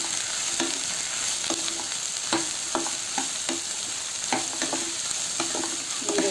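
Ridge gourd and green chillies frying in oil in a pan, a steady close sizzle broken by repeated sharp scraping and clacking strokes of a spoon stirring, loud and without talk.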